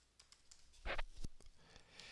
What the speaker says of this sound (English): And we'll just type it in right here,